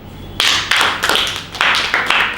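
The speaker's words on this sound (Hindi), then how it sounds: "ताली बजाओ एक बार" Children in a classroom clapping hands in a loose, uneven rhythm, about eight sharp claps close by at irregular intervals.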